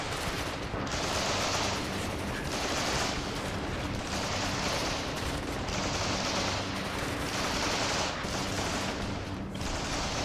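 An infantry battle in the WARNO wargame produces a dense, continuous crackle of distant gunfire and rumbling that holds at an even loudness throughout.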